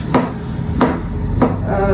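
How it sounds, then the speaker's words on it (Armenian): A knife finely chops food on a board in three crisp, evenly spaced strokes about half a second apart, close and clear with no talking. "լավ մանր կտրատում են ժողովուրդ, մանր"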